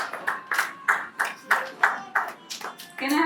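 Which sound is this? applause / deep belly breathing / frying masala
applause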